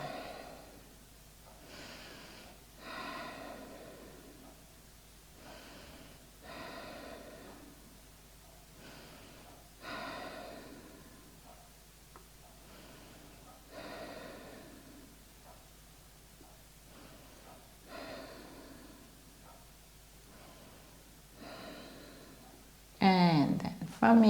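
Slow, deep breathing during a yoga flow, with roughly eight long inhale-exhale cycles spaced a few seconds apart, close and clear over a quiet background, and a brief louder rustle at the end.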